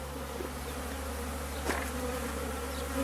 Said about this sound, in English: Busy bees